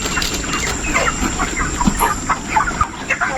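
Grown chickens on a poultry farm cluck in short, busy bursts close by, several birds overlapping in a steady chatter.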